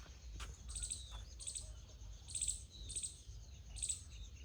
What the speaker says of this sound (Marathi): पक्ष्यांचा सगळीकडं किलबिलाट